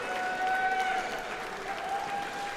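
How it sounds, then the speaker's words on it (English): Crowd applause fills Holt Fieldhouse at a college men's basketball game between Carson-Newman and Mars Hill, a steady, dense clapping from a large indoor audience lasting throughout with a faint tonal hum underneath. "Holt Fieldhouse applauds"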